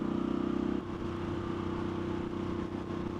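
Harley-Davidson 2022 Sportster S with a TBR aftermarket exhaust, a deep steady idle-like rumble that drops slightly and holds a low, even throb, moderately close with no talk.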